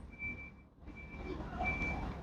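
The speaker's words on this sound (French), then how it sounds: "il y a deux gros camions qui arrivent au même instant où j'allume le micro" Two big trucks arriving outdoors with a faint, steady high-pitched reversing beep repeating over a low engine rumble, heard at a distance and fairly quiet.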